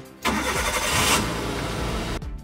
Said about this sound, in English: When you turn your key to start the engine